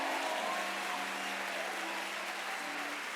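A church congregation applauds loudly, a dense, continuous wash of clapping from a large crowd, slightly distant and reverberant, with a faint sustained tone underneath.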